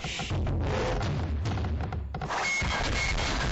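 In a strategy video game, cannons pound city walls with dense, rumbling booms and thuds, loud and continuous, overlapping with the clatter of battle.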